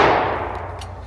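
An over/under shotgun fired at a clay target outdoors, caught as a loud decaying boom that fades out over about a second, with no talk.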